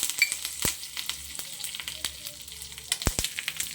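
Curry leaves crackle and sizzle in hot oil, sharp pops scattered over a soft hiss, close by with a couple of louder bursts.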